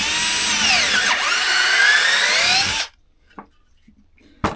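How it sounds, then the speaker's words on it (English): A loud, close cordless drill whines and strains as it bores through wood for about three seconds, then stops, leaving a few faint knocks and clicks. "I'm going to force the drill through."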